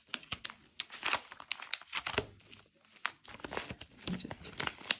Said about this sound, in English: just go ahead and slide that into my little envelope here